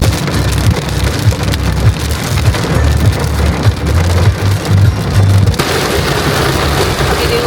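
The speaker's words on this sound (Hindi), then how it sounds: "बारिश हो रही है बहुत तेज" Heavy rain on the road to Agra pours down in a dense, steady hiss with low rumbling underneath, loud and close throughout.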